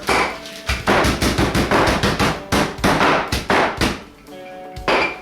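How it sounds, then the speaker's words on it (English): Rapid, uneven thumping and knocking as chicken breasts are pounded flat with a pizza roller, a series of dull blows on a hard surface in quick bursts with brief pauses. "once I pounded them out, which I am still doing, and I ain't got no meat hammer, so I'm using a pizza roller"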